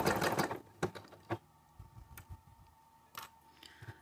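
A sewing machine stitching fabric lining and bottom pieces together, first a short fast rattling run, then sparse soft ticks and taps from the mechanism and handling, quiet and close.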